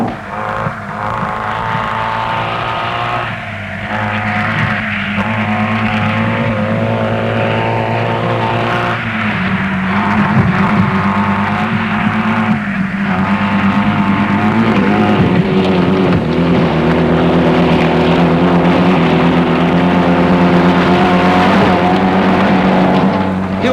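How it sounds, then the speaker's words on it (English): Old Series 1 Land Rovers climb through mud in a hill rally, their engines droning and labouring continuously. Revs rise and shift as the vehicles strain, loud and close, with no talking. "Old Series 1 models at best, with plenty of torque for climbing and clambering through the mud"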